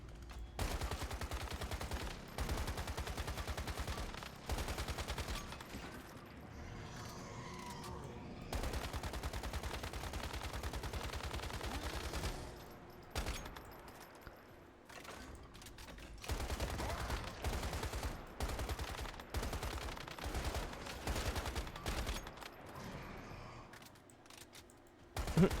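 Bursts of gunfire from the video game Once Human, dense and sustained through most of the span with brief lulls, loud and close, with occasional speech underneath.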